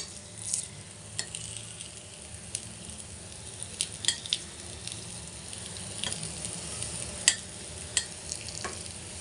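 Colocasia leaf patra (alu vadi) frying in a pan, a steady close sizzle with scattered crackles and pops, plus occasional light stirring or scraping, no voices.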